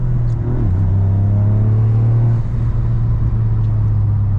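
A Toyota GR Yaris on a circuit, its engine droning loud and steady in third gear, a deep sustained tone that dips slightly early on and then holds, heard from inside the car without talk.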